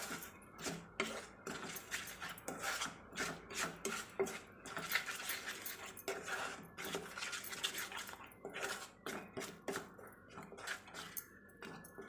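Jackfruit halwa with sugar is stirred in a pan over a slow flame, giving repeated scraping and clinking strokes of a spoon against metal in an irregular, close, fairly quiet rhythm.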